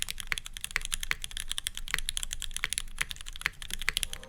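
Typing on a Keychron Q2 mechanical keyboard, a steady run of distinct keystrokes at a quick, even pace, close and clear with no voices.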